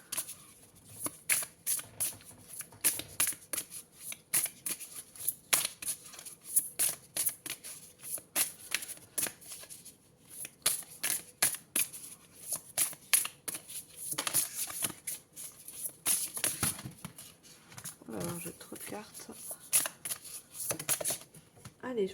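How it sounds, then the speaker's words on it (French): Oracle cards being shuffled and drawn in a tarot-style reading, a long run of quick papery riffles and flicks in irregular bursts, close up, with occasional soft talk underneath. "je prends une dernière carte avec cet oracle"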